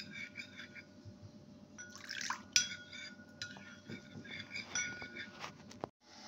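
A spoon stirs cornflour and water in a bowl, making quiet, uneven clinks and scrapes against the sides with brief pauses, close and fairly soft, with no speech.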